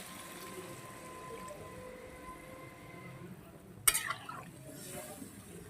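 Water poured into a pot of soybean and potato curry with egg, a soft steady trickle followed by a brief louder splash and bubbling as it hits the hot spiced mixture.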